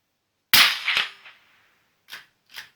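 A suppressed rifle shot fired at a steel plate 100 metres away: one sharp close crack that rings off, then two fainter short metallic reports from the plate strike, with no talking.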